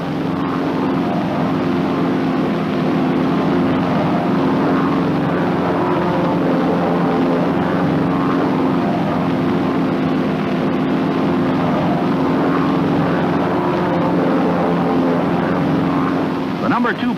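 Continuous droning engines of North American T-6 Texan propeller aircraft flying in formation, a steady layered hum with no pauses, heard from a moderate distance.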